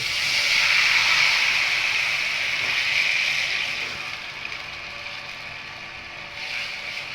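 Water poured into a hot tempering of asafoetida and turmeric gives a loud, hissing sizzle. The steam-like noise is strongest at first, then slowly fades and steadies over several seconds.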